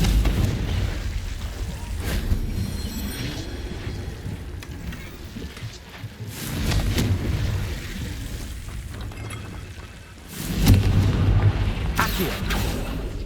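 Fiery spell explosions in the Hogwarts Legacy video game, two heavy booming bursts landing a few seconds apart over a continuous rumbling background of game ambience.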